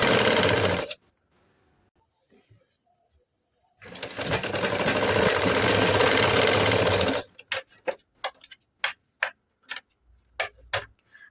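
Sewing machine stitching katori blouse fabric: a short burst, a pause, then a longer steady run of rapid stitching, followed by a string of sharp separate clicks.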